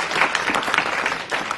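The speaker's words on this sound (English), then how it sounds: "Give a round of applause for everybody" A short burst of dense audience applause at a WordPress theme framework event, many hands clapping steadily without pause.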